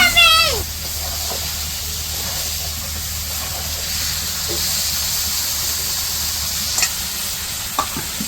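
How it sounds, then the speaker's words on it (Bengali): Village-style duck meat fries with spices in a pan under a steady hiss and sizzle with occasional stirring scrapes, and a voice speaks over it. "এখন এই যে মাংসগুলা দিয়ে দিল, সব কষিয়ে নিব এখন।"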